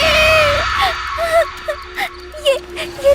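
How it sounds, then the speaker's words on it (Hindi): A girl in a horror story screams at the sight of a scarecrow, a shrill wavering wail followed by a series of short broken cries and whimpers. "उसे देखकर जोर से चिल्लाई"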